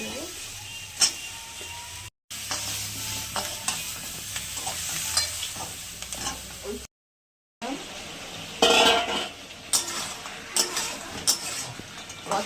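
Potato, ridge gourd, tomato and green chilies sauté in a pan with turmeric, sizzling under repeated stirring and spatula scrapes, with two brief silent gaps.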